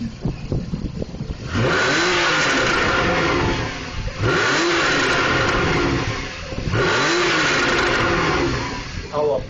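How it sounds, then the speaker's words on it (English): A Porsche 991 with its sport exhaust system revs hard three times in succession, each loud, close rise in engine pitch falling back between revs. "instead of just telling you all about the sport exhaust system, we thought it would be even better to let you hear it"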